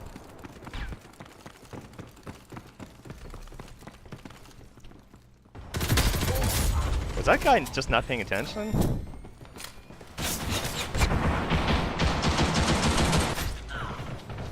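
Rapid machine gun fire and mechanical weapon clatter from the online shooter Ghost in the Shell: First Assault Online come in heavy bursts, loud and dense, while someone talks over the action.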